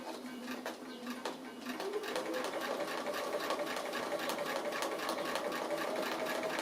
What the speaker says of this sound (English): So I'm just going to free motion stitch just along the bottom of that face there.